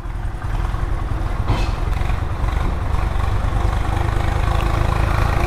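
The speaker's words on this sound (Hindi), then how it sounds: "यहाँ से ये ट्रैक्टर आ रहे हैं" A tractor engine runs on a forest road, a loud, steady low rumble that stays close throughout without fading, and no voices are heard over it.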